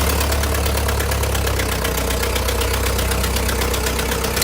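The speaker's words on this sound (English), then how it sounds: "The Allis-Chalmers Model U made its debut in 1929, offering a memorable startup growl that immediately set it apart from earlier machines." A 1929 Allis-Chalmers Model U tractor engine runs with a loud, close, steady knocking rumble, its rapid even beat holding without a break throughout.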